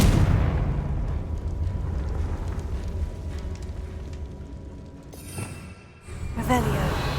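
Confringo fire spell blasts in Hogwarts Legacy, a deep rumbling burst that fades out, followed by a brief lull and then another sharp impact with crackling tail.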